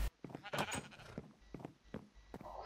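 Sheep in Minecraft bleat in short, wavering calls, several in quick succession at modest volume, with a voice talking partly over them.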